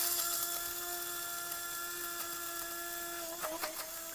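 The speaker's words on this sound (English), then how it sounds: "this is just a regular old coffee bean grinder. A really easy and quick way to grind up your flaxseed." Regular coffee bean grinder grinding flaxseed, a steady high-pitched motor whine held close and constant, with a brief rattle near the end.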